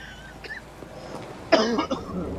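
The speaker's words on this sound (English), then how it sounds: "Bloody cough." A wet, harsh, bloody cough from Batman: The Telltale Series bursts out after some quiet murmuring and faint background sounds, followed by a brief rasping trail.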